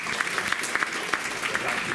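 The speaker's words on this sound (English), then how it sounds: "firstly, round of applause to Tim." A roomful of people applauds at a mental health at work talk, a steady, moderately loud patter of many hands clapping throughout.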